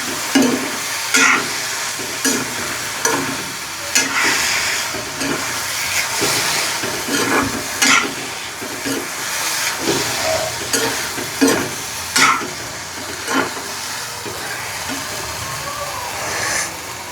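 Mushrooms frying with goat meat in a hot pan, a steady loud sizzle broken by repeated scraping stirs of the spatula, with no voices over it.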